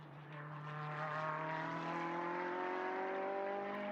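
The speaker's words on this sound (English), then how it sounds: "Just gonna listen to the V8 in that 488 car." Ferrari 488 GT3 race car with a V8 engine at Mugello during qualifying, a single faint distant engine note holding a steady pitch that slowly rises as it passes, with no talk over it.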